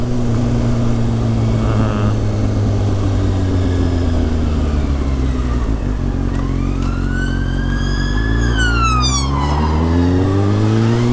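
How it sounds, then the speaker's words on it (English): A 2019 Kawasaki ZX6R motorcycle engine drones steadily up close while a police car siren wails in from behind, its rising and falling tone growing clearer. "we've got a police car coming up behind us"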